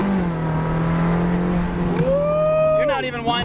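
Ferrari sports car engine revving in harmonic bursts, then a rising rev-match blip as it downshifts while driving, heard from inside the cabin under ongoing voices.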